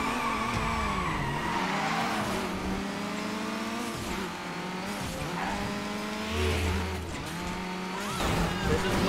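Car engine in the Midnight Club LA racing game revving up and down through double-clutch gear changes, repeated rising and falling pitch sweeps with tire squeals, loud and continuous.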